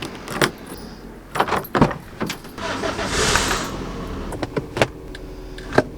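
Someone gets into a car, with close clicks, thumps and a door-like bang spaced irregularly over a low background, plus a short rushing swell in the middle.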